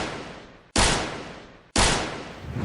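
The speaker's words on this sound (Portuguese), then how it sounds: "3 tiros." Three loud, close booming shots ring out about a second apart, each a sudden crack followed by a long decaying echo.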